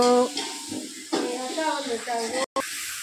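Chicken biryani masala of chili powder, salt, biryani powder and ginger-garlic paste sizzles and hisses in a pan on an outdoor stove, with stirring scrapes and a voice talking over it.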